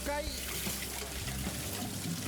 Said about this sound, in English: Rinse under cold water